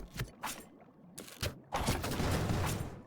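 Cannons firing during a battle in the video game Kingdoms Reborn, a few scattered booming blasts followed by a denser rumbling volley, fairly faint.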